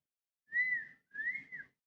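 A person whistles two short, close, clean rising-and-falling notes with a brief pause between them, alone against silence.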